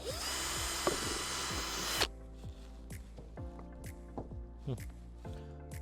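A power drill bores into a plant pot with a short high whine lasting about two seconds, followed by quieter clicks and taps of handling nearby.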